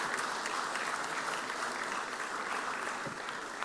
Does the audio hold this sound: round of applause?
yes